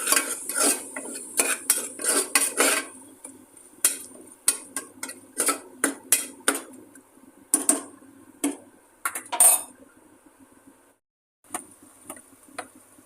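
A spoon scrapes and clinks against a pot while chili powder is stirred into a beans and toor dal curry, in loud, irregular bursts with short pauses between them.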